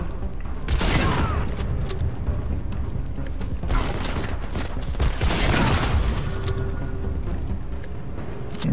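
Grenade launcher blasts and gunfire in the Modern Combat 5: Blackout shooter game, with several heavy booming bursts and rattling volleys over a constant noisy battle background.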